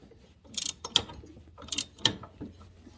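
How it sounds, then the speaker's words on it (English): A pipe wrench grips the pulley shaft of a Briggs & Stratton V-twin engine to loosen its nut, producing close, sharp metallic clanks and ratcheting scrapes in a few uneven bursts. "I'm going to take a pipe wrench and put it on the shaft of the pulley itself"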